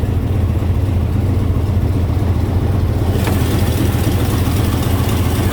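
An old TBI 350 V8 car engine idles with a deep, steady rumble, close and loud, with no talking over it.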